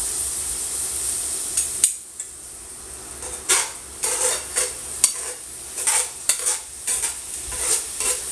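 A metal utensil stirs and scrapes inside a stainless steel non-stick pan, likely cooking bulgogi-style short ribs, in a string of sharp clinks and scrapes over a steady sizzle, close and fairly loud.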